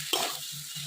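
Softened potatoes frying in oil in a pan for a Bengali village prawn dish give a steady close sizzle, with a quick stir scraping through it in a brief burst.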